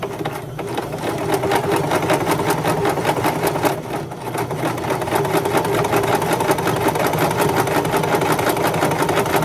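Sewing machine stitching an applique design onto a kitchen towel, a steady close mechanical whir with rapid needle ticking that runs unbroken throughout, dipping briefly once.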